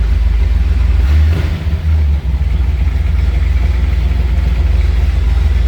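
A 1969 Chevrolet Camaro Z28 RS engine idles through a chambered exhaust with a deep, throaty rumble, steady and loud throughout, with a brief dip partway through.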